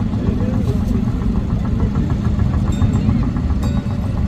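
A Czechoslovakian Zetor tractor engine runs steadily at a steam show, a close, loud low chugging idle with faint clinks, and talk drifting over it.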